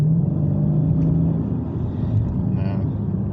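A muscle car on a public street gives a steady, loud, deep engine rumble that stays close and continuous throughout, with no talking over it.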